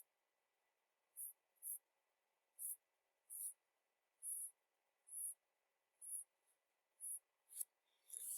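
A pen scratches across paper in about ten short, evenly spaced strokes, each lasting roughly a third of a second. The strokes are close and fairly soft, with quiet pauses between them and no talk.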